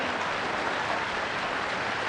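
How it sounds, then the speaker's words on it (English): A crowd applauding at a college commencement ceremony, a steady, even wash of many hands clapping together throughout, moderately loud and with no speech over it. "so don't clap long, y'all"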